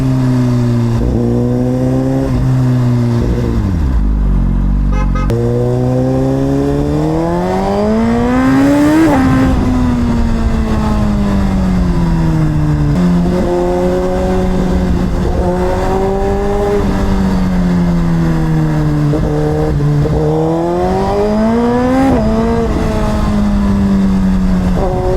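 A Suzuki GSX-R1000RR sportbike revs hard and loud, pitch climbing and dropping through repeated throttle sweeps and quick-shifter gear changes, continuous for the whole stretch with no talking.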